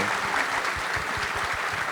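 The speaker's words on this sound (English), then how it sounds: "let's give all of our panelists a round of applause, please" Conference audience at RailsConf 2025 giving panelists a round of applause, steady dense clapping from many hands filling the room, continuous and fairly loud with no talk.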